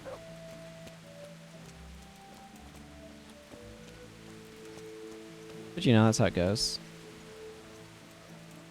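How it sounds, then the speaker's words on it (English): Heavy rain in Kingdom Come Deliverance pours as a constant hiss, with someone speaking briefly over it partway through. "bluish sky for how heavy it's raining."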